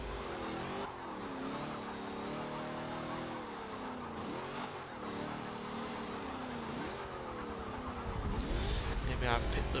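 A race car in Forza Motorsport 7, driven in an Evolution Championship career race, runs a loud continuous engine note that climbs and dips through repeated gear shifts, swelling louder toward the end.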